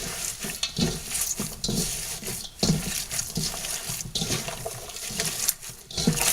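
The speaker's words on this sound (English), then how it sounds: "Now it's just a matter of mixing it all together." Ingredients for milk burgers are squished and mixed together by hand in a bowl, with wet, squelching, close-up slaps and kneading that repeat in an uneven rhythm without any talking.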